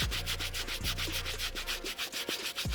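A medium bristle brush scrubs hard across the midsoles of worn Nike Book 1 sneakers in steady, rapid back-and-forth strokes, a close, continuous bristly rasp with no talk.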